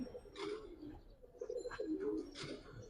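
Giribaz and Pangkhi pigeons coo softly in short, low bubbling phrases, close by and faint, with a few brief higher rustles between the calls.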